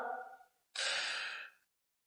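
Forceful breath out during a pull up, a short voiced breath followed by a strong, close, airy exhale lasting under a second, then silence.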